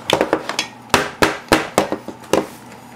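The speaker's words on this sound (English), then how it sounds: "now that I knocked that little pin down" A tool strikes sharply inside an Xbox One console to knock a small pin down, a series of about ten close, hard metallic taps in uneven bursts, no talking.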